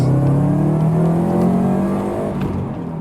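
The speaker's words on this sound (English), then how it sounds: "What driving mode are we in right now? We are in sport right now. Alright, let's give it some gas." A 2008 Subaru WRX STI in sport mode accelerates hard, its engine note rising steadily and loudly up close for the whole stretch with no talking.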